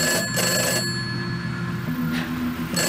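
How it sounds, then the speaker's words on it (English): A telephone rings with repeated bursts of bell-like ringing over a steady background, heard alone with no talking. "It's just a phone."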